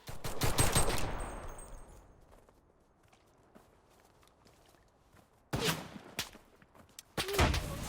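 Gunfire in the shooter game CRSED F.O.A.D.: a loud burst of rapid shots at the start fading into quiet, then two more sharp bursts near the end, with faint footstep-like sounds between.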